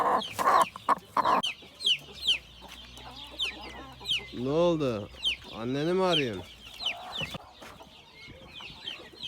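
Several farmyard chickens of mixed colours cluck close by in a coop, with short harsh calls and a run of rising, tonal clucks mid-clip; a person speaks briefly near the start and again later.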